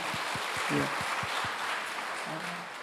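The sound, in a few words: congregation applauding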